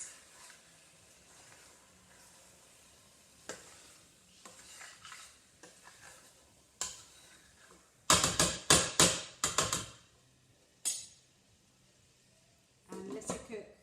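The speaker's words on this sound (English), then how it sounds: "Give it another really good mix." Chicken curry being stirred in a pot with a spoon, soft scraping and sizzling at first, then a cluster of loud clattering strokes against the pot midway and a final burst near the end.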